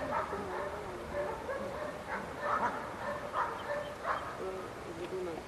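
A dog barks repeatedly at a 1997 IPO working-dog competition, a series of medium-distance yelping barks over a steady outdoor background hum.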